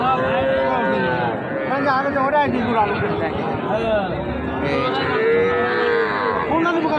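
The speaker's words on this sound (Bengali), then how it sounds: "এই যে চমৎকার চমৎকার সব গরু আছে" Cattle mooing repeatedly at a cattle market, with people talking and background chatter throughout.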